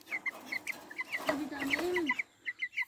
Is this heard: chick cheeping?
yes